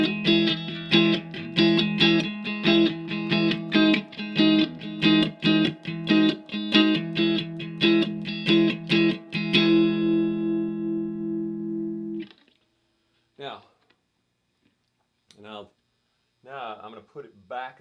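An electric guitar played through a Supro Delta King 12 1x12 combo amp with mids scooped, treble raised and a little extra bass rings out in rapid strummed chords for about ten seconds, then fades into sparse, short picked notes.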